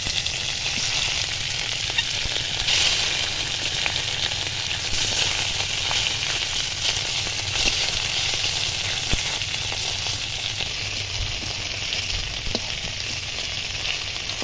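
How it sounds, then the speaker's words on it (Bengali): More fish added to hot oil in a wok fry with a continuous close sizzle and crackle, a dense even hiss with small pops and occasional stirring, no voices. "কড়াইয়ে আমি আবার কিছু মাছ ছিল, সেগুলো দিয়ে দেবো"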